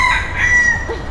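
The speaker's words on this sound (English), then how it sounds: "actual roosters here in the rainforest" A rooster crows in a Singapore rainforest garden, one drawn-out cock-a-doodle-doo call ringing clearly over faint background ambience.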